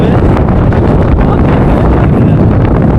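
Strong wind roars steadily across a mountain viewpoint in Theni district, buffeting the microphone with loud, continuous low rumble and gusts throughout, no voices.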